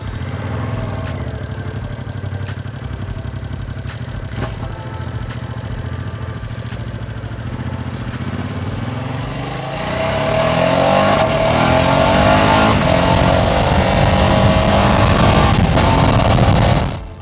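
A 2025 Ducati Multistrada V2S with an 890cc V2 engine idles with a steady, lumpy throb, then revs up sharply partway through, holding a louder, rising roar close by until it cuts off at the end.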